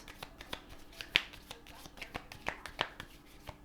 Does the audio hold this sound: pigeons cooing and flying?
no